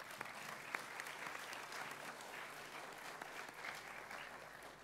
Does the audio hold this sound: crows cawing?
no